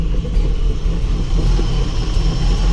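A 1970 Chevrolet Nova engine idles steadily, a loud, close, deep rumble with a slightly uneven low pulse throughout and no talk over it.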